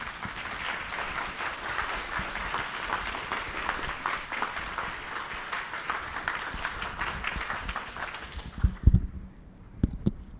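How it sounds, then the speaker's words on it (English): Audience applause for the speakers at an author talk, steady dense clapping from a large crowd for about eight seconds, then fading into a few scattered louder claps near the end. "Let's give our speakers a round of applause."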